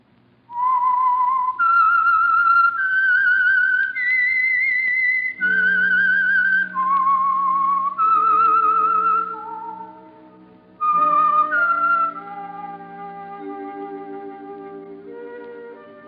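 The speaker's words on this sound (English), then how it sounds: "That whistle is your signal for the Signal Oil program, The Whistler." A lone performer whistles the eerie theme signature of the old-time radio mystery program The Whistler, a clear, loud melodic line of sustained and gliding notes backed by soft orchestral chords, ending on quieter accompaniment.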